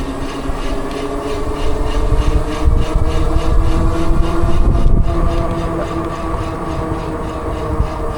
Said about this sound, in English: I'm getting that brake rotor noise again.